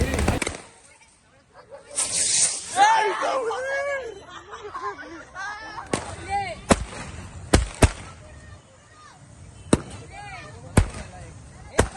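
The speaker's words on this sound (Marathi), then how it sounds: "आता फक्त फटाके फोडायची मजा करतोय आम्ही" People chatter and laugh during a Konkani Tulsi Vivah celebration, then sharp firecracker bangs burst out one after another, about half a dozen loud cracks at irregular intervals.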